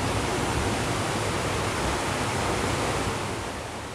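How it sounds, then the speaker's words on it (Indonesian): Steady, dense rush of water at an indoor-sounding distance, a beautiful waterfall in Indonesia roaring continuously without pause, loud and broad, easing slightly in the final half second. "saat ini kita berada di air terjun yang sangat indah"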